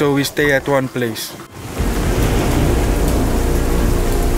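Heavy tropical storm rain pours down in a dense, continuous roar that starts abruptly after a brief stretch of talking and then holds steady.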